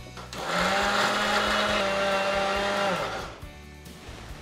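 An electric mixer grinder whirs loudly for about two and a half seconds as it blends chutney spices with tamarind, salt and jaggery, then spins down and a few faint clinks follow.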